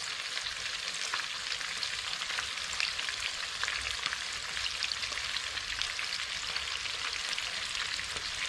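Floured pike fillets fry in a pan of hot oil, giving a steady, dense sizzle and crackle that runs unbroken and fairly close throughout, with no voices over it.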